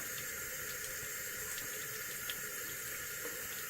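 Tap water runs steadily from a faucet as it warms up for shaving, a constant close hiss with no pauses and no voices.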